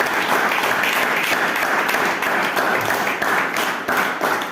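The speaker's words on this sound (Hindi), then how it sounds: "ताली बजा सकते हैं?" Church congregation applauding together during a worship service, a steady, dense wash of clapping that stays loud and even throughout, with no speech over it.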